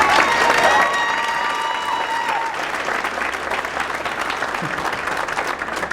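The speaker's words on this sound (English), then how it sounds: "I'm not as funny as Andrew, so if y'all can give him a round of applause again" Sustained applause from a school event audience in Santa Fe, dense steady clapping with some crowd noise filling the whole stretch, a few faint voices and tones at the start.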